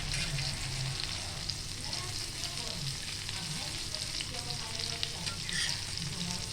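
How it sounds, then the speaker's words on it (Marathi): Fish pieces shallow frying in a pan, a steady close crackling sizzle with faint stirring and spatter throughout, no voices. "आणि दुसऱ्या साईडून पण आपण तशीच सेम फ्राय करून घेऊया."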